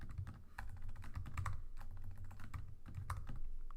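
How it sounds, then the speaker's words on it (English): Someone types a name on a computer keyboard, with quick, uneven keystrokes clicking close by over a few seconds, with no one talking. "So please enter your name. I'm going to enter Kakra"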